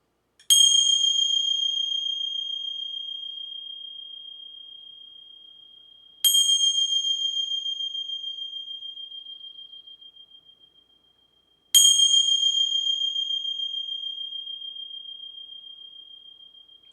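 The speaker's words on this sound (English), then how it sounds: "Bells might be a little loud, so if you're sensitive, you may want to turn that down." Three clear, high bell tones ring out one at a time, each struck about five or six seconds after the last and left to decay slowly into silence, with nothing else audible.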